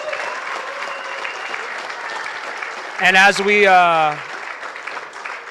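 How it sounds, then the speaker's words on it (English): Applause fills a city council meeting room, a continuous crowd clapping that carries throughout, with a voice speaking briefly over it partway through. "give them a big round of applause."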